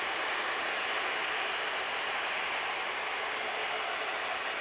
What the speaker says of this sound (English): So it's an Airbus A330-200 series